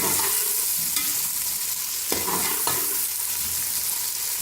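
Onions stirred into a cup of hot oil for chicken pulao give a steady, dense sizzle throughout, with a few sharp scraping clicks from the spoon.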